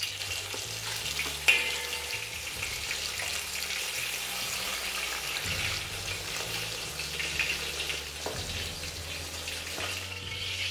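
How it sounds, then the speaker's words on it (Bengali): Pieces of katla fish sizzle in hot oil with a steady, even crackle that holds throughout, with a soft clink or two of utensils and no talking. "একদিকটা ভাজা হয়ে গেলে পাল্টে নিয়ে অপর দিকটাও ভালো করে ভেজে নিন"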